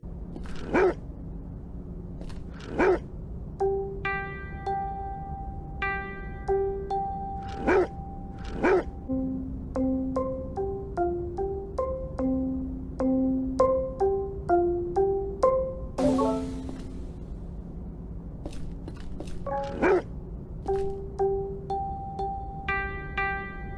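Sensorium puzzle game: short dog barks recur at regular intervals, woven between clear melodic tone sequences that rise and fall across the stretch.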